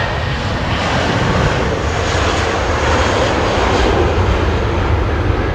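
Nearby airplane engines give a loud, steady, broadband roar with no letup, heard at an airport close to the aircraft.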